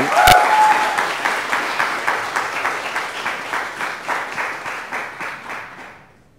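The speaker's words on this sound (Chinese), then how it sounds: "我们这时候就用最热烈的掌声来欢迎林医师来跟我们分享" A church congregation at a Saturday service breaks into warm applause to welcome a visiting doctor, many hands clapping in a steady rhythmic swell that fades out at the end, with no talk over it.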